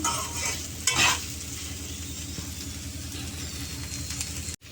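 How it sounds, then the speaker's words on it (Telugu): Okra frying in a pan with very little oil, a close, even sizzle under steady stirring, with a brief scrape of a utensil against the pan near the start. "ఇంకొక ఐదు నిమిషాలు అట్టా ఫ్రై ఫ్రై అవనిద్దాము"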